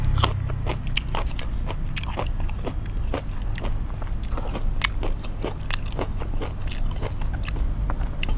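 Crisp bites and steady crunchy chewing of mango eaten with a sweet fermented fish dip, loud and close, repeating in a quick irregular rhythm with no talk.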